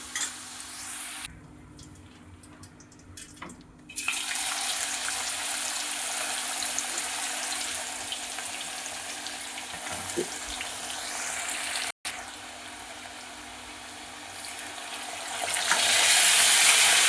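Raw banana chips frying in a pan of hot oil, a continuous crackling sizzle that drops quieter briefly early on, then swells back up and grows louder near the end.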